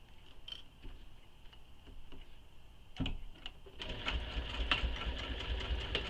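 A sewing machine stitches down the lower edge of a handmade leather espresso wallet, its needle ticking in a steady run of close, moderately loud strokes that grow denser and busier in the second half.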